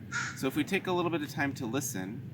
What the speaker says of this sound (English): I hear some birds in the background.